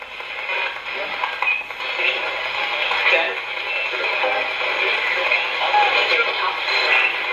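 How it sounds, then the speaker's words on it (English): A ghost box sweeps through radio stations inside a reputedly haunted house, giving a steady hiss of static broken by fleeting fragments of broadcast. It runs continuously and fairly loud, with voices faintly mixed in. "I'm going to turn the ghost box on. Everyone knows what a ghost box is. It runs the white noise."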